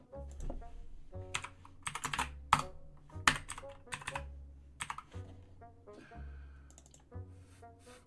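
Keys clatter on a computer keyboard during a programming session, bursts of quick close taps with short pauses, quiet and without speech.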